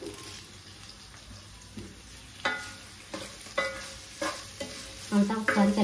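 Ginger garlic paste, coriander and curry leaves frying in a pan as a low sizzle, broken by several distinct stirring clatters spaced a second or so apart, with louder scraping near the end.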